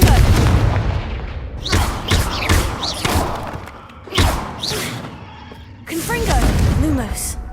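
Confringo blasting spell explosions in Hogwarts Legacy, several loud booming impacts at uneven intervals, interleaved with spell effects and a voice casting between blasts.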